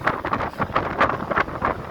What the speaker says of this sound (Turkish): Çok rüzgar var bugün.